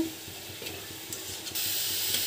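Mustard greens fry over a high gas flame while being stirred, giving a steady close sizzle and hiss broken by soft scraping strokes of a spatula.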